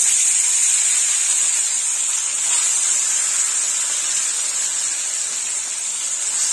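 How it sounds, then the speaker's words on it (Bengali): Bhola fish sizzling in hot oil in a kadai for a spicy fish curry, a loud, steady frying hiss that holds from start to finish with no voices. "তেল গরম হয়ে গেছে, এবার আমি মাছগুলো দিয়ে দেবো।"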